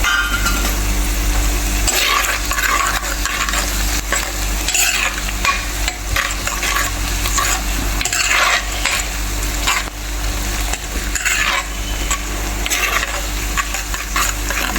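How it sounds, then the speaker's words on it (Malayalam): Dried red chillies and curry leaves stirred in a hot pan, a loud continuous sizzle with repeated scraping strokes of the spoon and a low steady hum underneath, no talking. "വറ്റൽമുളകും കറിവേപ്പിലും ഇട്ട് കൊടുക്കാം തന്നെ ഇളക്കി കൊടുക്കാം"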